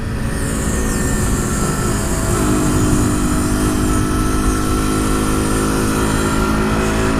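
A motorcycle engine drones loud and steady while riding on a 2015 long-distance touring trip, with continuous wind rush and a slight pitch drift, no voices.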